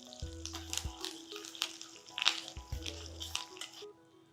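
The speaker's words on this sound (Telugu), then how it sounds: "కొంచెం కరివేపాకు, చాలా కొంచెం జీలకర్ర వేద్దామంటే ఈ వేగిన దాంట్లో అది వేగిపోతుంది" Curry leaves and a little cumin crackle in hot oil with short bursts of spattering and sizzling, and a low hum sounds beneath them. Close and fairly quiet, with no talking.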